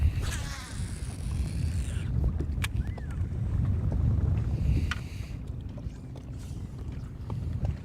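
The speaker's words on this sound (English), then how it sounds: "It is getting a little breezy." Breeze gusts across a bass fishing boat out on open water, a rough low rumble of wind buffeting the microphone with faint knocks and creaks from the boat, close and steady, without speech.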